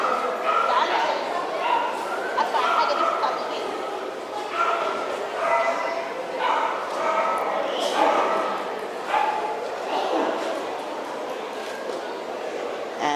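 Toy Poodles and other small dogs yapping in repeated short bursts at a dog show judging ring, barks spread steadily across the stretch amid a busy hall with voices murmuring underneath.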